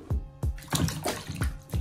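Wig hair swished and dipped up and down in a bucket of hot shampoo water, giving repeated rhythmic sloshing splashes, close and fairly loud, with no talking.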